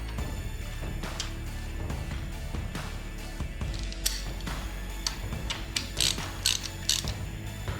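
Close ratcheting and clicking while a part is tightened on a 2021 Yamaha YFZ450R quad build, with irregular metallic ticks and a few sharper clacks near the end over low shop rumble.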